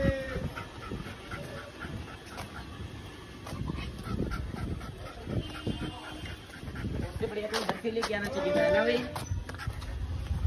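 Stray dogs on a city street pant and whimper close by, giving a few short barks and yelps amid street noise, while people talk over them.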